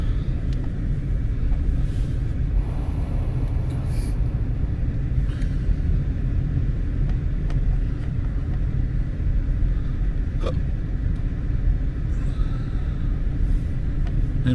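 Car driving through a snowstorm, heard from inside the cabin as a steady low road rumble and engine drone that stays even throughout with no talking.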